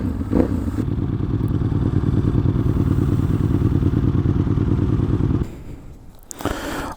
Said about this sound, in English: 2021 Honda Rebel 500.